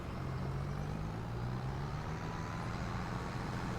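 A car from Farming Simulator 22 rolls past on the North March map as a steady, close engine drone with a low rising hum, alone and with no voices.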